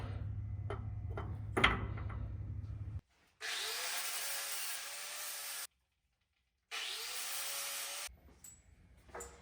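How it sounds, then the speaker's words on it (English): A power tool cuts down metal retaining clips for a mini spool locker on a Chevy S10 axle, two sustained harsh grinding bursts separated by silence, following some clattering handling noises. "I'm cutting down these clips a little bit so it actually can slide in there"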